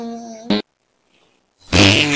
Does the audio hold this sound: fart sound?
yes